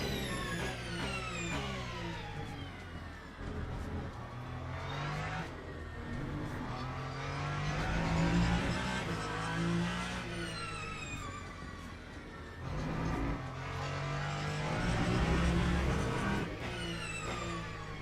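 Race car engine in Le Mans Ultimate, short shifting: a loud close engine note climbs, drops at early gear changes and climbs again in repeated sweeps, with no talk over it.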